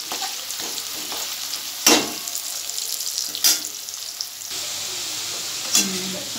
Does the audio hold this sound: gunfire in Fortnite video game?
no